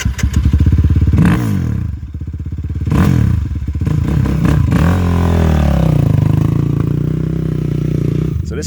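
A modded Kawasaki KFX450R quad's single engine revs hard through repeated throttle blips and gear changes on a ride, loud and close, then settles into a steady high drone.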